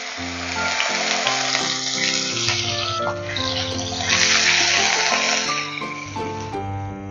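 Onion and tomato paste sizzles in hot oil with cumin for a soya curry, a steady close-up frying hiss that runs continuously beneath melodic background music.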